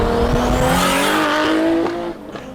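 Annis Elegy Retro Custom, a twin-turbo four-wheel-drive car in GTA Online, roars along with a steady engine note climbing through the gears, loud and close, with tire noise, then easing off near the end.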